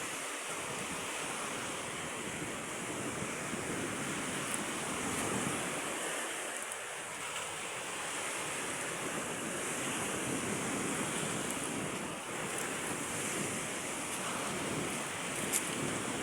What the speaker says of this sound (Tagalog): lakas ng alon dito, mga Q. Ayan, high tide ngayon.